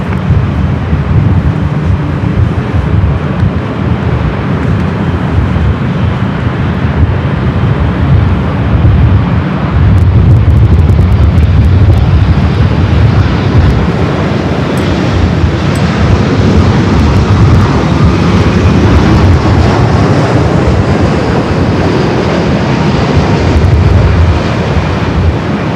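A jet airliner taking off from runway 24 Left at LAX, a loud, steady broadband engine roar that holds across the whole stretch with a slight swell near the middle, no voices over it.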